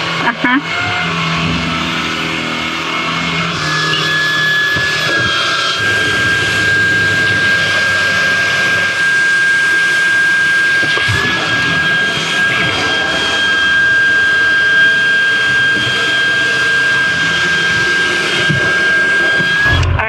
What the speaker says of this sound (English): It's vacuum time